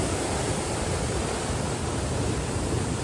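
Steady, loud broadband rush of water, continuous and close, like a stream or waterfall pouring without pause, on a hiking trail in Seoraksan National Park, South Korea.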